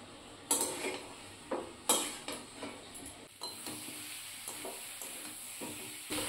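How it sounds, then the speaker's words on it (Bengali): Jackfruit curry is stir-fried in a wok over a medium flame, a quiet sizzle broken by sharp scrapes and knocks of a spatula against the pan, several in quick succession and then lighter, regular stirring. "আবারও কিছুক্ষণ সময় নিয়ে এই জলটা শুকনো অবধি মিডিয়াম ফ্লেমে কষিয়ে নেব"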